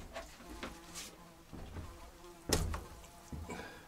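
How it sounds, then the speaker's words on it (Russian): A housefly buzzes indoors in a room where meat and pork fat are being packed, faint intermittent whining passes that come and go with a sharper close sweep midway, no talking. "Так, муха какая-то залетела."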